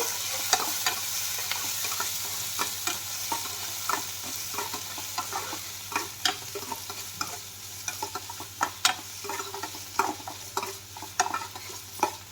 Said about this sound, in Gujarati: હવે આને સાંતળી લેવાનું છે